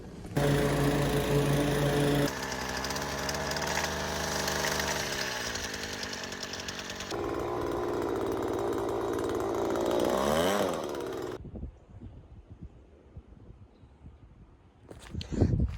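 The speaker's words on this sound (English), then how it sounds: "But okay, I'm gonna mow my yard number 2." A lawn mower runs loud and close while mowing a residential yard in Texas, its steady engine drone shifting in pitch for about eleven seconds, then it cuts off, leaving faint outdoor noise and a brief final clatter.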